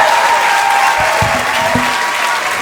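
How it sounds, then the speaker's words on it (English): A live theatre audience at a comedy podcast recording gives Tim Minchin a loud, sustained round of applause, thick continuous clapping with a few cheers from the crowd and no speech. "will you please give a big round of applause to Tim Minchin"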